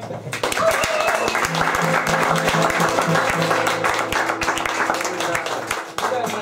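Audience at a music hall applauds for Greg, a lively burst of many hands clapping with distinct individual claps audible, steady and fairly loud throughout before tapering slightly at the end.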